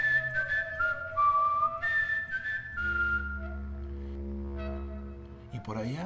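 Melodic whistling with sliding, wavering pitches, followed by a low steady drone; a brief burst of noise at the end.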